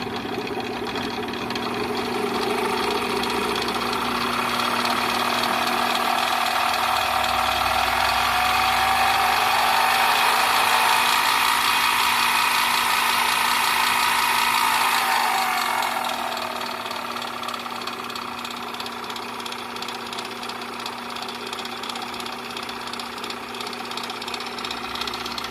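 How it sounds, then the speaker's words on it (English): A Sumore 7X14 metal lathe with all-metal drive gears runs steadily, a loud continuous mechanical whine and gear hum that rises slightly in the middle, then drops to a quieter lower hum near the end. "we got the lathe up and going again, and it seems to run pretty good."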